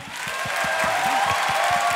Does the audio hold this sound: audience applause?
yes